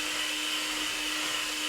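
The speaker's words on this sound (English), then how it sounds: "2 minutes on the mixer." An electric mixer beating cake batter, a steady high whirring motor whine held evenly for the whole moment without a break.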